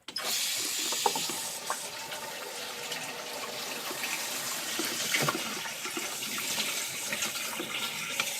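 Water pours steadily into the tub of a Homeleader twin tub portable washing machine, a continuous close rushing splash that holds throughout.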